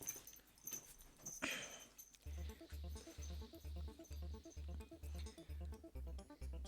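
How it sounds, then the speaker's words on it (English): Two excited dogs beg for biscuits indoors, making snuffly whines and panting close by, with a steady rhythmic thumping pulse running underneath through most of the stretch. "Why is it that I have biscuits and suddenly there are two really excited dogs?"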